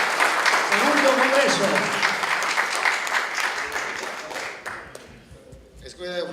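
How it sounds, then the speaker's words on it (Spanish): An auditorium audience at an arts-education congress applauds a doctor, loud clapping that tapers off over several seconds, with a voice speaking briefly near the end. "Aplauso para el doctor."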